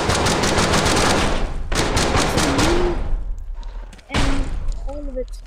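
Gunfire in the VR zombie shooter Death Horizon: Reloaded, a loud stream of rapid, stuttering shots that breaks off and resumes, with electronic game tones and chirps appearing near the end.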